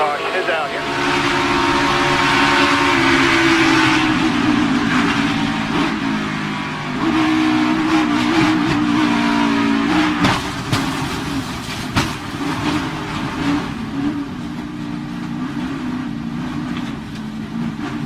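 NASCAR race cars under caution, a steady loud roar of stock car engines with rumbling, shifting tones and a few sharp bangs, likely from spins and crashes, with a commentator's voice running underneath throughout.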